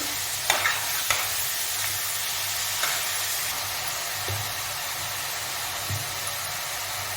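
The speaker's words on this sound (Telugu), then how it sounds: "వంకాయ ముక్కలు తొందరగా మగ్గడానికి నేను ముందే సాల్ట్ కూడా వేసుకుంటున్నానండి" Salted eggplant pieces frying in a pan give a steady broadband sizzle throughout, with a few faint stirring scrapes and knocks scattered on top. No one speaks.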